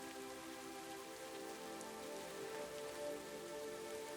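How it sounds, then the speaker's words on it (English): Raindrops fall steadily on the surface of coastal rock pools at the Fairy Pools of Portacloy Beach, a soft, even patter that continues unbroken throughout, with no voices. "The sound of raindrops hitting the surface of the rock pools created a gentle, soothing melody"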